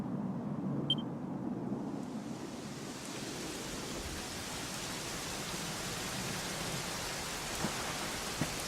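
Steady rain falling in the Dragon Quest 11 video game, a constant wash of drops that holds at an even level from start to finish, with no voices over it.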